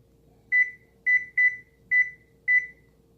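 Five short electronic beeps from an oven control panel as the cook time is keyed in, evenly paced, clear and close over a faint steady hum.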